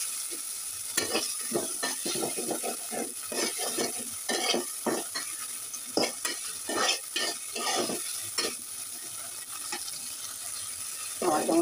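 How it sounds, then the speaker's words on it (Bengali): Chopped tomato fries in a pan while being stirred, a sizzling hiss broken by repeated scraping and clattering strokes of the spatula, close and steady, with no voices. "ভেজে নিচ্ছি"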